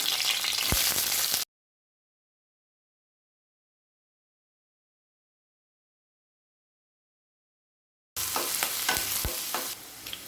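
Oil sizzling steadily as sliced onions fry in a pan with curry leaves, with scraping stirring strokes; the sound drops out for several seconds midway, then the sizzle and stirring resume.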